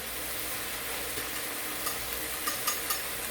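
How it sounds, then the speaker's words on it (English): Honey sauce for a beef stir fry is stirred in a pan, giving a soft steady sizzle with a few light scraping clicks and taps toward the end. "Now we're going to make sure that we mix it up"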